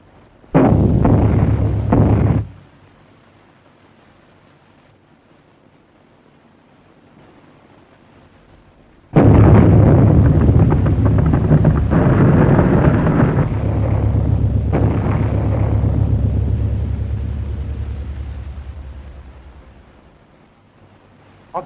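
Aerial bombs explode in a 1930 war film, loud deep blasts with a short burst and then a long roaring rumble that swells and slowly fades, on an old soundtrack with no speech over it.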